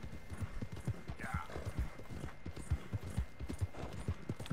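Horse hooves walking on ground in the video game Red Dead Redemption 2, a steady rhythmic clip-clop at an unhurried pace, close and clear, with a brief whinny-like sound early on.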